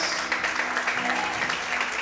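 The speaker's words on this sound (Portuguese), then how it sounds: "Você pode levantar a mão, aplaudir e exaltar o Senhor bem forte." A church congregation claps in worship, a steady wash of applause with a faint sustained tone beneath, moderately quiet and continuous.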